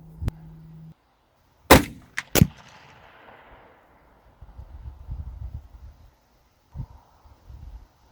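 A CVA Wolf muzzleloader rifle fires at a shooting range: a sharp, loud blast followed closely by a second crack and a fading echo, with quiet shuffling and handling noises afterward.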